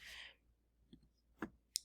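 A couple of faint, sharp mouse clicks in a quiet room, turning off a dictation tool, with a soft breath near the start.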